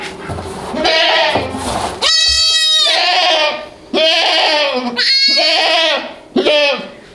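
A mother goat bleats over and over for her baby goat, giving several loud, wavering calls close by, with a person talking between them.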